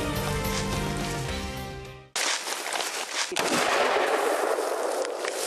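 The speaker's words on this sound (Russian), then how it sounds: "Поэтому лучше сделать еще один выстрел," A sustained rumble gives way to a sharp, loud hunting gunshot, then a second shot follows, each trailing into a noisy echo, during a boar and roe deer hunt.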